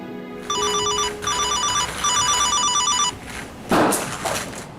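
A telephone rings in repeated bursts of a bright electronic trill, loud and close, followed by a clunk as it is picked up, with no talking over the rings.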